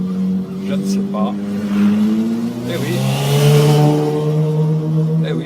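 A motorcyclist in shorts and a tank top overtakes a car one-handed on the road, an engine rising and revving close by inside the cabin while someone speaks over it.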